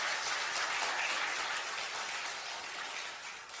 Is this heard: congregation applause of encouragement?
yes